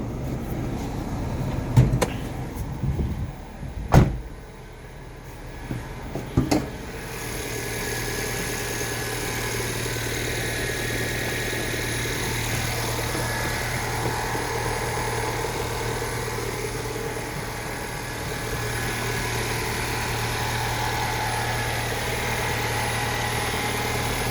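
A Hyundai Santa Fe Hybrid engine idles with a steady, even mid-low hum that runs close and constant. A few brief knocks and handling noises come near the start, and no one speaks.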